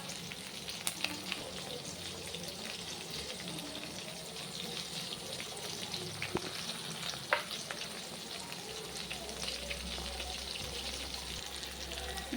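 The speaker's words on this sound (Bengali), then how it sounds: "এবার হালকা করে ট্রান্সপারেন্ট হওয়া পর্যন্ত জাস্ট ভেজে নেব।" Onion and capsicum frying in a pan for chilli chicken: a faint, steady sizzle with occasional soft clicks of stirring, heard alone and without talk.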